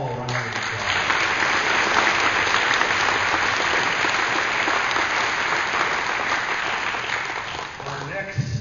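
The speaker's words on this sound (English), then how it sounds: "So give them all a round of applause." Round of applause at the Philomath Chamber of Commerce Samaritan Awards dinner, a dense sustained crowd clapping filling a hall for several seconds before tapering off.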